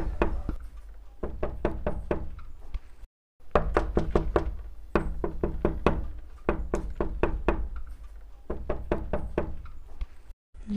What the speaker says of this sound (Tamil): யார் இது இந்த நேரத்துக்கு வந்து கதவு தட்டுறாங்க?